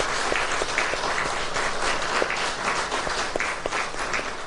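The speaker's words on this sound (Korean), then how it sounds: "우리 성가대 관현악 하는 분들을 위해서 격려의 박수 하겠습니다" Dense, sustained applause from a Korean university chapel audience for the choir and orchestra, a steady wash of many hands clapping at even loudness throughout, with no talk.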